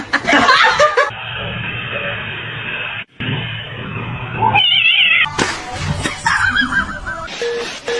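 A cat meows a few times between bursts of laughter and other voices, with short gaps of near silence.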